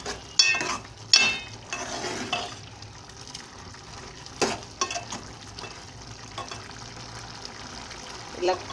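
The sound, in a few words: stirring okra curry (bendakaya pulusu) in a pan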